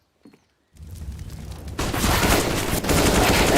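Rapid bursts of gunfire from a competitive Counter-Strike match on the Inferno map, with shots piercing through a wall, start after a brief quiet and build into a loud, dense, continuous barrage of overlapping shots and crowd-like noise.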